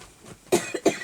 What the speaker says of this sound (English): Now I've got coughing because of the dust.